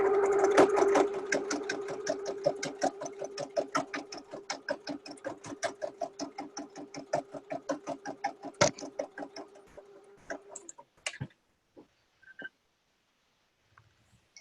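A sewing machine back stitches a summer drawstring tote bag seam, its needle pulsing steadily, then slowing and stopping with a few scattered clicks at the end.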